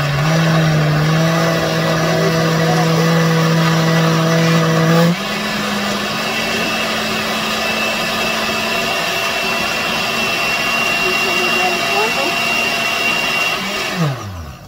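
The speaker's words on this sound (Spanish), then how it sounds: "vamos a licuar" Blender whirring through a corn and milk mixture for corn tamales: a loud, steady motor whine that drops in pitch after a few seconds as the load thickens, then winds down and stops at the end.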